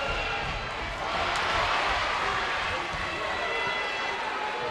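A packed, standing-room-only crowd at a high school boys basketball game in a gym hums as a steady, dense roar of voices, swelling briefly, with an announcer talking over it.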